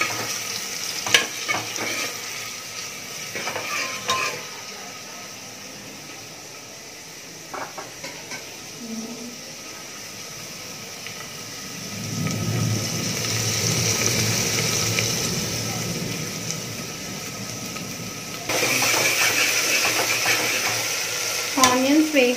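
A cup of onions tips into two teaspoons of hot oil for mutton dalcha, and a loud, steady sizzle swells midway, broken by the clink and scrape of stirring in the pan.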